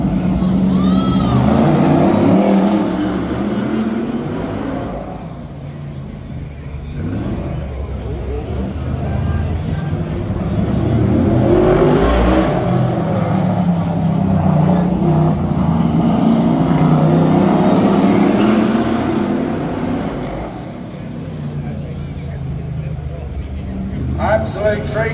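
Brisca F1 stock cars race at Skegness, engines roaring in repeated surges as cars sweep past, with a commentator talking over the noise.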